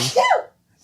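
One sharp human sneeze, close and loud, breaking off abruptly into near silence.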